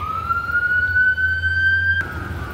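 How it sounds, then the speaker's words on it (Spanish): An ambulance siren close by, a loud steady rising wail that cuts off sharply near the end while a vehicle engine rumbles underneath. "Ahí pasó la ambulancia."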